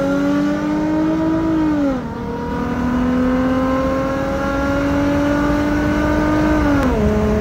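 A G35 and a V6 Mustang race, one engine revving hard and climbing steadily through the gears with two clear upshifts, a loud, sustained near drone with no talk.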